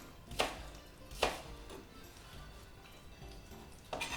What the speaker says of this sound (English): Chop the peeled onion into 1 centimetre square pieces.